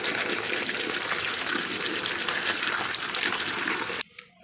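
Water gushes and splashes steadily over small fish in a basket, including shrimp, tengra and puti, loud and close, then cuts off abruptly near the end.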